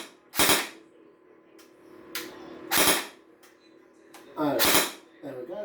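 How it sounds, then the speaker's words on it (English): A submachine-gun-style pistol rifle fires in three sharp cracking bursts spaced a couple of seconds apart, with softer mechanical clicks between and a voice speaking near the end. "A little bit of vibration that you can feel through the actual pistol rifle itself, because it's basically a submachine gun"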